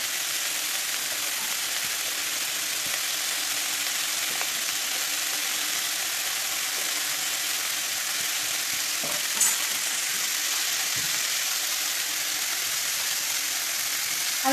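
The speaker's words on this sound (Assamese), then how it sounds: "আৰু 10 মিনিট ভাজি ল'ম।" Pointed gourd fries in a pan with a soft, even sizzle that runs steadily throughout, with occasional faint stirring clicks.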